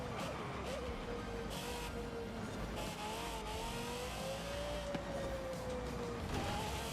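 Lexus LFA supercar in the racing game Forza Horizon 5, its high-pitched engine wailing and shifting pitch while accelerating and cornering, with faint tyre noise; a continuous, fairly quiet engine sound without speech.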